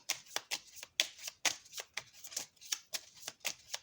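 A deck of oracle cards is shuffled by hand, a close series of crisp riffling bursts in a steady rhythm, roughly a dozen quick flutters with no one talking.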